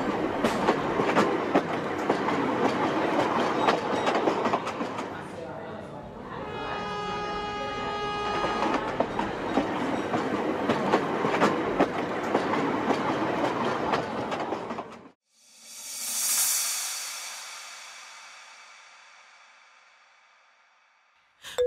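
A local train rolling along with a continuous rumble and rhythmic clickety-clack, a sustained horn-like tone partway through, then a sudden drop to quiet and a single whooshing pass that fades away.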